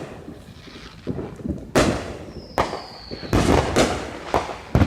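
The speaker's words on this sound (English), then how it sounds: "But we're missing all the fireworks from over here." Fireworks bursting in the night sky, a run of sharp cracking booms at uneven intervals, some close and loud, others fainter and farther off, with a whistling rocket rising partway through.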